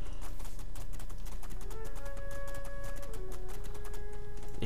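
Horse hooves clop in a fast, steady rhythm while riding in the video game Two Worlds 2, heard close and continuous under a sustained musical tone in the game audio.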